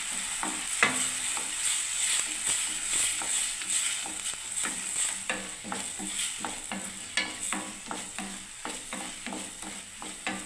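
Cumin, coriander, poppy seed and mustard paste stirred and fried in oil for a Bengali pach meshali chachchori, a steady close sizzle broken by a run of regular scraping strokes of the spatula against the pan.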